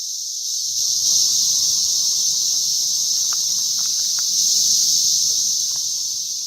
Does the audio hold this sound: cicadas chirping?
yes